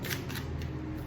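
A tarot card drawn from a shuffled deck: a short, close papery slide and flick of cardstock, a few quick rustles over a steady low hum.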